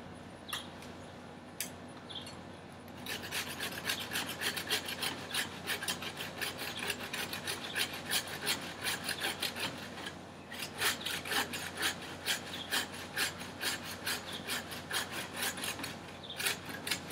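Continuous rasping and scraping of a blade grinding through tree wood, in rapid repeated strokes that grow louder after a brief quieter start; no talking.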